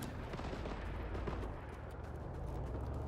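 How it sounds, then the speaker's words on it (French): Automatic weapon gunfire in the Winter War shooter Talvisota, a dense, continuous rattle of shots with booming low rumble that holds loud and unbroken for about three seconds, with no voices. "il a une arme automatique"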